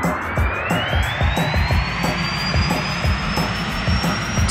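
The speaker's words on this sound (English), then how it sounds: "This airplane engine should do the job." A jet engine fitted to a car on the Nordschleife in a racing video game roars loudly and steadily, with a rising whine climbing through the sustained thrust.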